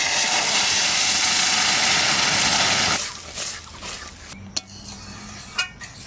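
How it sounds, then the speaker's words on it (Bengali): Masoor dal goes into a pot of hot mustard oil and onions for a village-style jute-leaf dal, setting off a loud, rushing sizzle for several seconds. The sizzle drops away to quieter stirring, with scattered clinks of a spoon against the pot. "এবার ডালটা দিয়ে দিচ্ছি।"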